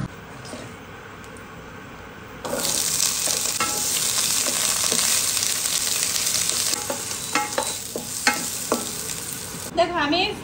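Poppy seed paste cooks in a pan: after a quieter opening, a dense sizzle starts and carries on, with scraping stirs growing more frequent toward the end and no talking.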